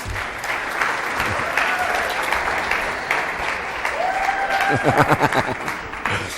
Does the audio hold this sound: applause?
yes